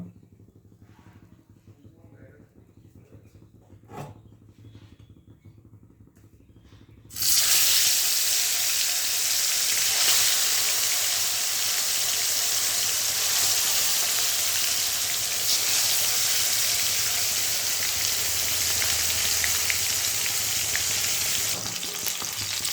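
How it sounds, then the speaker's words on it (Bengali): Koi fish dropped into hot mustard oil: after several quiet seconds a loud, dense sizzle bursts in and holds steady and close to the end. "তেল করতে মাছটা বেশি ভাজতে লাগে না, অল্প ভাজাতেই হয়ে যায়"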